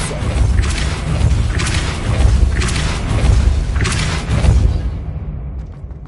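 Depulso repelling spell impacts in Hogwarts Legacy, four heavy booming thumps spaced roughly a second apart, each with a crashing burst, loud and close, fading to quiet at the end.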